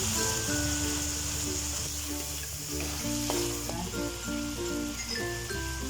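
Bean sprouts, egg and tomato stir-frying in a pan with black pepper, a steady sizzle under a busy layer of tonal music.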